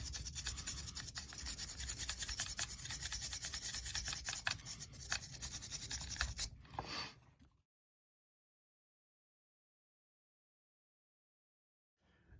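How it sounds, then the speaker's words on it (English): A brush scrubbing green-wood sawdust out of carving burrs, a dense continuous close-up bristle scrub for several seconds that breaks off into silence. "It's just scrubbing and scrubbing to try and clean."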